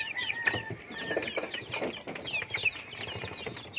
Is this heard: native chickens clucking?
yes